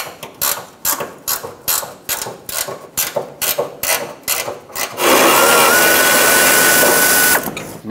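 A ratchet turns a 15 mm fuel tank strap mounting nut on a Ford E-350 Super Duty 5.4L V8, giving about a dozen loud, close clicking strokes before a sustained whirring, rushing noise fills the last few seconds.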